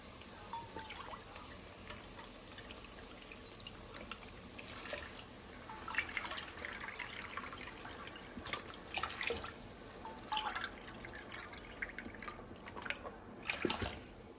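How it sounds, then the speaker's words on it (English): Vegetable broth poured into a pot of rice, a faint continuous trickle and splash of liquid at close range with occasional louder sloshes, heard alone without talk. "Now I add the vegetable broth."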